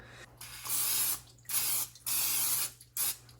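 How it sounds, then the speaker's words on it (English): Cooking spray hisses from an aerosol can onto a sheet pan in four close, sharp bursts of varying length, separated by short pauses. "we're going to spray some cooking spray on it"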